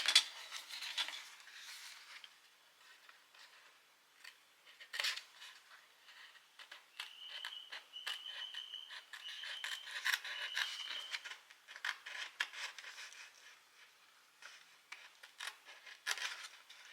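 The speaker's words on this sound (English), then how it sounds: "I really need to get better scissors to do this." Soft, repeated snips and rustles of scissors cutting through paper, close by and fairly quiet, with irregular pauses between cuts.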